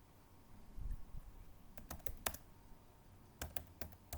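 A command is typed on a computer keyboard while configuring a network switch. Sparse, crisp key clicks come in small clusters, close but quiet, over a faint room hum with no speech.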